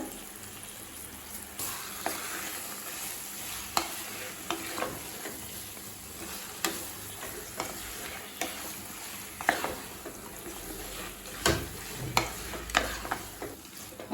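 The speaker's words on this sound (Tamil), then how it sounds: "ஒரு 5 நிமிஷம் வரைக்கும் நல்லா வதக்கிக்கலாங்க" Marinated chicken sautés in a pan for a Hyderabadi chicken masala, a steady soft sizzle with scattered stirring clicks and scrapes from a utensil, moderately close and fairly quiet, no talking.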